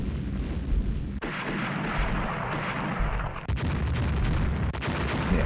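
Several 11-inch naval shells strike a cruiser in the naval warfare game Rule the Waves, heavy rumbling booms and blasts that roll into one continuous loud barrage.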